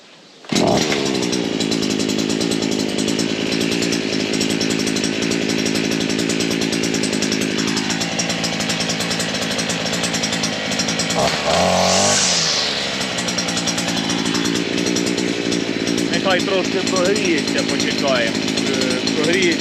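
A GTM petrol brush cutter runs continuously in an overgrown village garden, its buzzing two-stroke engine whining loud and close, with slight dips and rises in revs partway through.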